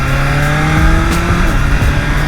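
A superbike on stock exhaust with a quick shifter accelerates hard, its engine howling loud and close in a continuous rising drone, with short crisp breaks as gears snap through.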